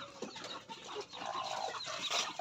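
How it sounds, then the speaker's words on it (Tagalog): Native chickens clucking softly nearby, a few short calls scattered over a light background, no voices. "Mga pure native chicken ito mga kanitib"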